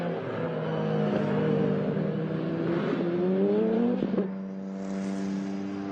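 Mazda 13B rotary-engined race car at a time-attack event, revving high with wheel spin and feathered throttle, a loud steady buzzing engine note that rises then drops and levels off, with no talk.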